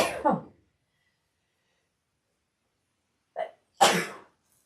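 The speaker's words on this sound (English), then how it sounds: "I'm gonna sneeze." A single sharp sneeze rings out after a short intake of breath, close and isolated against silence, preceded by a brief spoken word.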